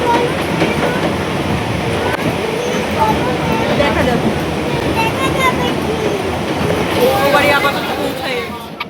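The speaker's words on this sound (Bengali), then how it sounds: "রাতের এই ট্রেন জার্নিটা আমার বরাবর ভীষণ ভালো লাগে" A night passenger train on the Ranaghat–Krishnanagar line runs steadily with a continuous rumbling roar and faint clattering, loud and close throughout, with voices murmuring beneath.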